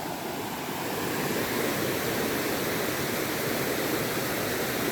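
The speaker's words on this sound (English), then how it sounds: "This Rio has many little falls, so here's a little waterfall, if you call it that, or rapids." Small waterfall and rapids on a river in Minca, Colombia, a steady full-bodied rush of tumbling water that holds even and loud throughout, with no voices.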